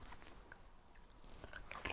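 Walkers salt and vinegar crisps being bitten and chewed close up, with soft crunches coming in a few bursts that grow louder near the end and no talking.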